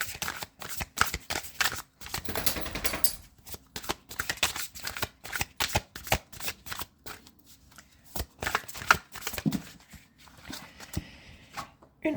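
Tarot cards are shuffled and drawn by hand, a long run of soft riffling, flicking and slapping sounds in uneven bursts, close and fairly quiet, with no talk.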